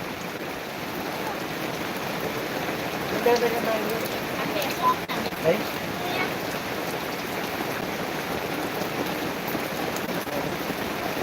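Steady rain hisses and patters throughout, with someone talking over it and a few louder splashes.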